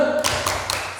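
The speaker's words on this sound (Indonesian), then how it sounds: "tepuk salut lagi dong buat Angel" Children clapping a short salute cheer, a few quick sharp claps in rhythm, close and fairly loud.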